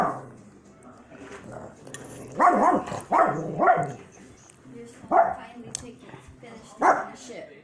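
Several loud dog barks ring out in short bursts, some paired closely, with a low murmur of voices and background noise between them.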